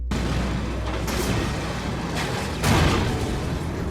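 A time bomb goes off in a World War II Normandy war film, a loud rumbling blast that fills the whole clip, with a second heavier surge of debris and roar near the end.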